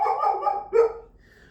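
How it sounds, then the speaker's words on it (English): A pet dog named George barks a couple of times in the background, two short loud bursts with a brief whimpering tail and no talk over them. "my dog is barking in the background"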